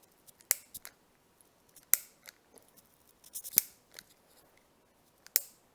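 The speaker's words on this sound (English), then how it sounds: "Enjoy some nice clicking sounds." A lighter clicks with sharp metallic sounds at irregular intervals while lighting a candle, four crisp strikes with softer ticks between, close up against a quiet background.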